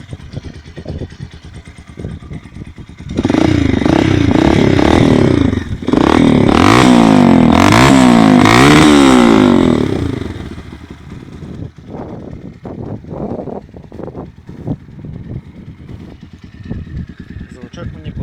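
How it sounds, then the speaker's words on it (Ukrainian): A Zongshen ZS 200 GY motorcycle engine revs loudly twice, rising and falling in pitch, then settles back to a quieter idle with some clattering and nearby talk. "Мотор досить приємно працює."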